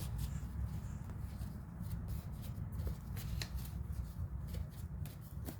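Playing cards are pulled out and shuffled close up, a quiet run of riffling flicks and soft taps over a low room hum.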